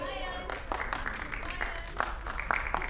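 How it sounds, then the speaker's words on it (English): A school annual day crowd gives a soft, scattered round of applause for the daycare students. The patter is continuous but fairly subdued, with a voice talking over it. "the big applause became very small, guys"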